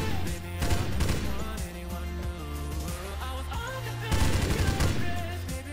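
Gunfire in an offline zombie shooter mobile game: rapid bursts of automatic shots that stop and start again, mixed with tonal game music, fairly loud and close.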